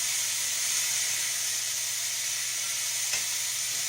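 Beef scraps fry in a skillet on a stovetop burner, giving off a steady, close hissing sizzle that holds even throughout, with no talk.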